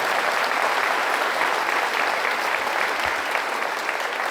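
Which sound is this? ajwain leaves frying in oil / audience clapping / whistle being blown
audience clapping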